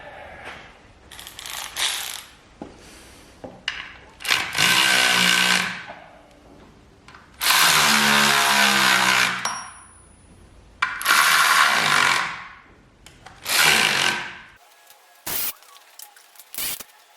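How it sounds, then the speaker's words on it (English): Ratchet wrench bolting up parts on a rebuilt Audi R8 engine, with repeated loud bursts of rapid clicking separated by short pauses and faint handling noises. "So let's get this bolted up."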